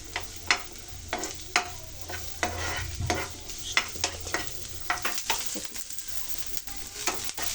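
Food for egg biryani fries in coconut oil in a pan, with a continuous sizzle and frequent sharp stirring scrapes at an irregular rhythm, heard close up and without speech.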